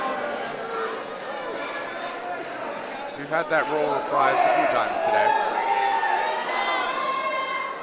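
Loud crowd at a wrestling event, a steady roar of cheering and chatter that swells midway, with a commentator talking over it throughout.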